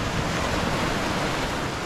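Ocean surf washes onto Malindi Beach, a steady broadband rush of breaking water with wind buffeting the microphone, close and continuous with no talk.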